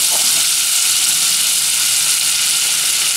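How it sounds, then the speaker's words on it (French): Butter and flour frying in a pan as the base for béchamel sauce, giving a loud, steady, close hiss and sizzle that fills the whole stretch without a break. "Je vais mettre du beurre dans une poêle. Je rajoute par-dessus de la farine."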